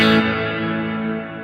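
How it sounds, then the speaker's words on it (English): Electric guitar played through the hall reverb setting of a NUX Cerberus multi-effects pedal, a sustained chord whose bright top fades quickly while a lush, wide reverb tail rings on. "So here's your Hall reverb."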